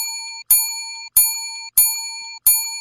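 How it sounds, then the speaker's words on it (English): A bright bell sound effect dings five times in an even rhythm, each clear metallic ring decaying before the next strike, loud and alone. "So Grifka, my Grifka bell wasn't working"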